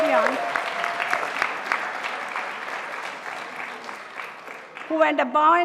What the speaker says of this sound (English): let's give a round of applause for all our staff and students